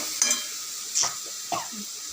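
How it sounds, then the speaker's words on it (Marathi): Mixed vegetables being sautéed in a pan, with three quick, close stirring scrapes over a soft, steady sizzle. "बघा इथे सगळ्या भाज्या परतून घेत आहेत।"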